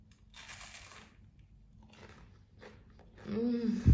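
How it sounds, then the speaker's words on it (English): Soft crunching bites into crispy fried rice kibbeh, with a few brittle crackles and a louder crunch near the end. "Look at how crunchy and crispy it is."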